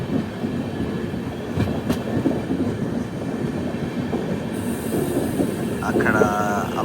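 The Karnataka Sampark Kranti Express rolls along the tracks with a steady rumble and faint clickety-clack of wheels, heard from on board, with a brief high squeal near the end.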